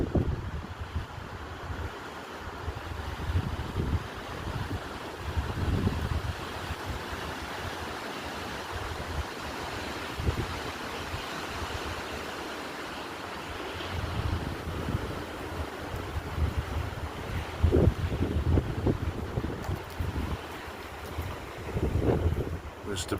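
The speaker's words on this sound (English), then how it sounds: "Here comes the gust." Roaring windstorm with gusts of 75 mph and more, a broad continuous rush that surges and buffets the microphone in heavy gusts, with leaves, branches and twigs flying.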